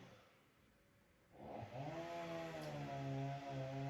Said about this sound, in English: Someone is mowing their lawn today furiously